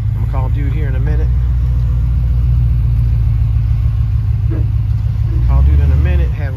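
A 1984 Buick Regal LS rolling slowly across parking-lot bumps, its engine giving a steady loud low rumble that swells briefly near the end, with someone talking over it throughout.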